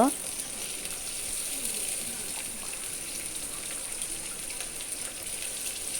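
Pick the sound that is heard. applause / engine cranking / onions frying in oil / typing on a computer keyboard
onions frying in oil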